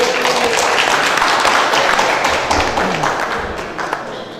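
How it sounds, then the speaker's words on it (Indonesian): An audience at a reunion evening gathering breaks into sustained applause, dense and close, staying loud for several seconds before easing slightly toward the end, with faint voices underneath. "aplaus untuk kita yang hadir di tempat ini"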